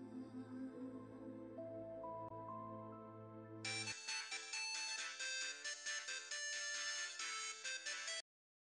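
A phone rings with an electronic melodic ringtone: rising tones at first, then a brighter, rapidly repeating chime pattern that stops after about eight seconds. Clear and close, with no voices.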